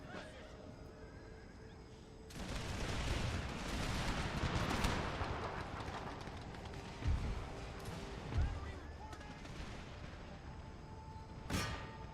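Musket volleys and artillery fire boom across a battlefield in Empire Total War, a dense roar of gunfire with a couple of heavier cannon thuds and a sharp crack near the end, mixed with horse whinnies.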